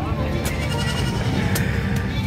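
Goats bleat a few times amid the busy, noisy San Carlos City livestock market, with people talking throughout.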